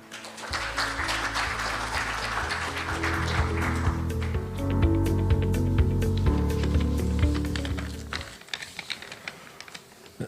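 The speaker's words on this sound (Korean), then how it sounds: "박수로 환영 부탁드립니다." Audience at the opening of the 2022 SW Safety Conference claps to welcome a speaker, with dense, steady applause from a room full of people that holds for about eight seconds and then thins to scattered claps.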